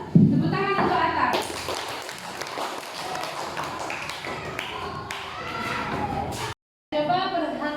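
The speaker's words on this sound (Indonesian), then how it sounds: "tepuk tangan untuk Atta" Schoolchildren in an Indonesian classroom clap for a classmate named Atta, a burst of dense, busy applause of small hands lasting several seconds, mixed with children's chatter and a teacher's voice, breaking off abruptly into a short silence before voices resume.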